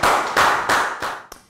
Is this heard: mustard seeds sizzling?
no